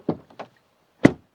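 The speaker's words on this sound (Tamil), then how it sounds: "டோர் பொறுத்த வரைக்கும் நல்ல ஒரு ஹெவியான டோர் தாங்க." A heavy door on a 2025 Mahindra Scorpio N Z2 base model is handled: two light clicks, then a single solid, close thud as it shuts.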